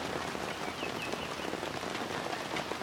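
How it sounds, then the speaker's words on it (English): Heavy rainstorm pouring down during a May long weekend, a steady dense hiss of rain drumming on surfaces that stays loud and even throughout, with no voices. "so it's the rainstorm"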